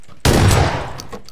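A gunshot blast from a CS:GO match: a sudden loud report that decays into a short echoing tail, with a faint voice underneath.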